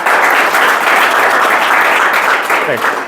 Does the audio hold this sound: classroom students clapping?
yes